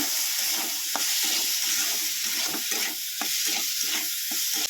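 Drained pasta stirred with masala in a hot pan, a steady sizzle and fry under repeated scraping strokes of a spoon against the pan, close and continuous with no talking.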